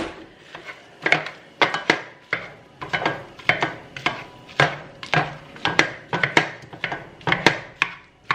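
Knife chopping vegetables on a wooden cutting board, a steady run of close, sharp thuds in quick irregular bursts, with no talking.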